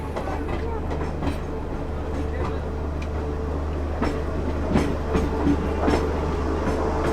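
Garib Rath Express rolls along the rails, heard from on board, with a steady low rumble, periodic clicks and clacks from the wheels and faint voices underneath.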